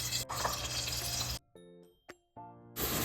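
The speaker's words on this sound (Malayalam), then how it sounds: "രണ്ട് ടേബിൾ സ്പൂൺ നെയ്യുണ്ട് അതിലേക്ക് ഈ ഏത്തക്ക അരച്ചത് ചേർക്കാം" Mashed plantain paste hits two tablespoons of hot ghee in a pan for a payasam, giving a loud, close sizzle that cuts off, then returns briefly among soft clinks and stirring.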